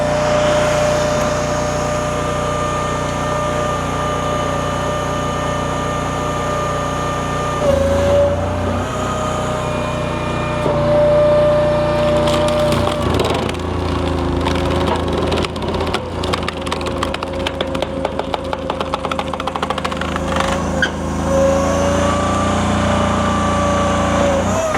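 A Honda iGX800 engine runs steadily on a Wolfe 42 XDI extreme duty industrial wood splitter working dry wood, with a loud, close droning hum and clattering bursts partway through as the logs split.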